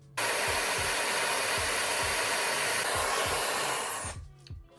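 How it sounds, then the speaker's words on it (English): A hair dryer blows with a steady, loud whooshing roar, close by, then shuts off and winds down near the end. "just turn the hairdryer off"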